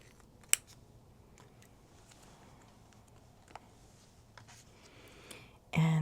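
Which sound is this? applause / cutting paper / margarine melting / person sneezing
cutting paper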